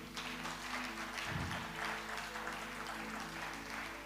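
A church congregation applauds steadily for a few seconds. The clapping is dense and continuous, with a faint murmur of voices under it.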